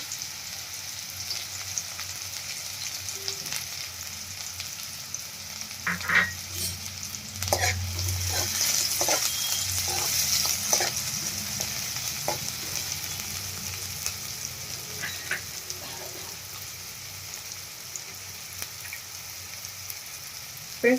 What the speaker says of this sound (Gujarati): આપણે तेल આપણું ગરમ થાય એટલે આપણે એમાં ડુંગળી એડ કરશું